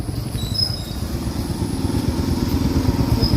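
A motorcycle engine rumbles steadily close by, a low throbbing putter as the bike moves off, with no voices over it.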